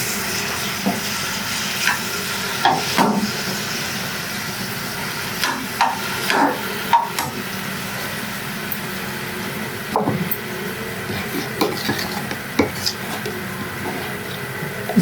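Small boneless chicken pieces frying in a pan, giving a steady broad sizzle with scattered clicks and scrapes of stirring throughout, fairly close and loud with no talk.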